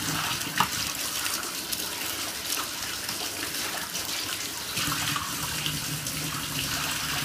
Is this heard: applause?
no